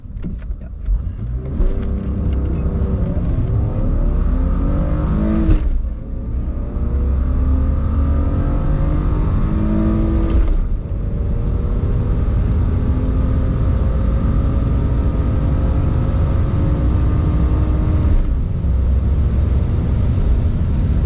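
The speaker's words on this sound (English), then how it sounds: "we're gonna listen to the engine" A BMW E46 engine revs repeatedly, its pitch climbing through the gears with sharp shifts between rises, loud and close with a constant rumbling undertone.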